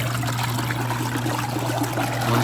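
Water runs into a portable washing machine as it fills, a steady, loud rushing trickle with an even hiss over a constant low machine hum, unbroken for the whole stretch.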